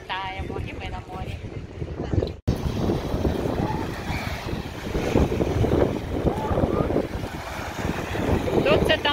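Wind buffets the microphone at the seaside on Ostia beach, a rough, steady rumble with a brief cut partway through, while people talk close by.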